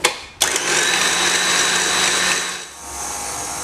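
An electric mixer whisks egg yolks and sugar in a bowl, starting with a sharp click and then a steady high whirring drone that drops briefly near the end before carrying on, close and loud.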